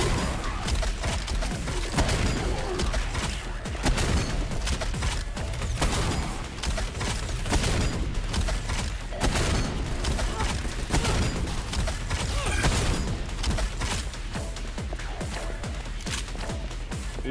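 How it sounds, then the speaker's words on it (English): A shotgun in the video game SPRAWL fires repeatedly, a dense run of loud, sharp blasts with crashes between them, close and continuous across the whole stretch. "Using up a lot of shotgun shells on these guys."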